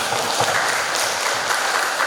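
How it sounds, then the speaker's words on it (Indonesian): Audience applause for UGM students at a community outreach session on business permits and halal certification, steady dense clapping from a crowd throughout, moderately loud and close with no speech over it. "Tepuk tangan dong buat teman-teman UGM."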